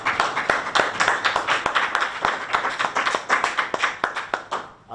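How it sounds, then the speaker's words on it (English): Applause from the audience at a government house press briefing: dense, steady hand clapping runs for about five seconds at close range, then tapers off at the end, with no one speaking over it. "Once more, a round of applause."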